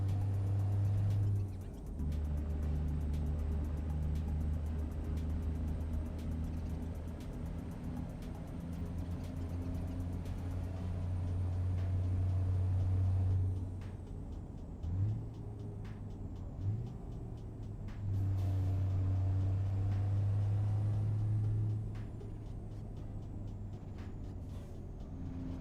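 A car engine in a racing game: a steady droning motor that holds, dips around mid-clip with quick shift blips, then climbs again, continuous and close with faint tyre and road noise beneath.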